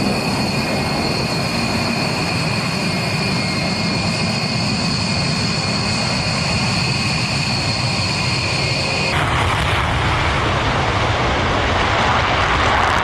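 A loud, continuous jet engine roar with a steady high whine, as U.S. Air Force bombers and escorting fighter jets fly past close by, the whine cutting out near the end while the broad rumble carries on.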